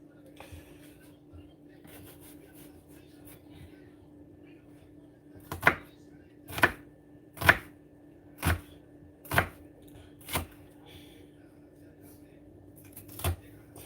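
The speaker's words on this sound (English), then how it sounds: "But y'all hear me chopping." A knife chops ingredients for tomato sauce on a board in a home kitchen, with about seven distinct, evenly spaced cuts in the middle section and one more near the end. The cuts are close and clear against a quiet background hum.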